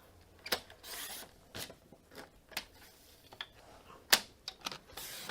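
Paper is trimmed for a crafting project with a run of quiet, scattered snips and light crisp cuts, separated by short gaps of near silence.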